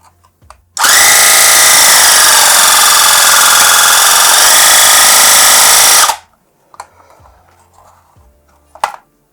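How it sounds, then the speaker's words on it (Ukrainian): A STORM Compact Power 20700 car air compressor switches on and runs with a loud, steady, harsh buzzing drone for about five seconds, then cuts off, leaving a few faint clicks and handling noises. "Зараз ми під'єднаємо даний компресор до живлення і послухаємо, як буде працювати."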